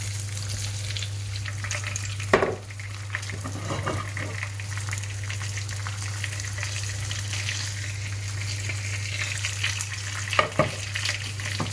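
Courgettes frying in oil in a pan over medium heat, a steady close sizzle with a constant low hum beneath and a couple of brief clatters, no talk.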